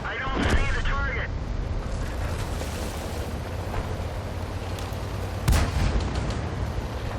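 A Turan III tank's cannon fires in World of Tanks on the Ruinberg map, a deep boom over a steady engine rumble, with a second sharp report a few seconds later.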